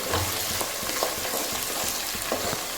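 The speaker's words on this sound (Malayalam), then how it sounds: "നന്നായിട്ട് വഴറ്റിയെടുക്കണം നല്ലോണം മൂത്തിട്ടുണ്ട്" Curry leaves sauté in hot oil for lemon pickle, a dense, loud, continuous sizzle with soft stirring knocks running throughout.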